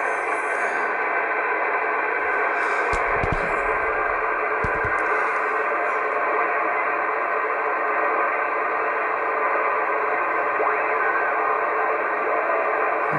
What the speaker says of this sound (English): Some of the digital modes.